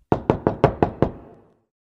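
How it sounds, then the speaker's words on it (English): Six sharp raps on a door come in quick, even succession, close and loud, each a hard wooden knock, with a short ringing decay after the last and no voices. "Then there was a knock on the door."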